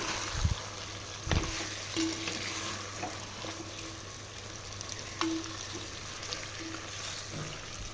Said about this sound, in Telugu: రెండు మూడు నిమిషాలు ఇలా ఫ్రై చేస్తూ ఉండాలి